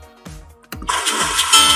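A splash sound effect from the Canva effects library: a few soft low thumps, then a loud broad watery wash that rushes in just under a second in and carries on to the end.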